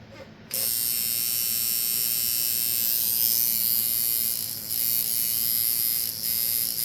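A cheap six-dollar tattoo machine buzzes steadily and close, a continuous electric drone with a bright rattling edge that starts abruptly and runs on with only brief dips, no voices over it.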